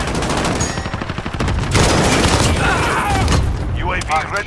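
Rapid bursts of automatic gunfire and explosions fill a Call of Duty battle, loud and dense throughout, with radio-style voices talking over the shooting.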